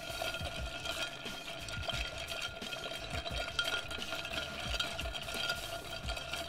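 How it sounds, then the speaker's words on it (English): Ice being stirred in a coffee cocktail made with Licor 43 and rum, a rapid run of clinking, rattling cubes against the glass, close and steady throughout. "Add a scoop of ice and give it a stir for"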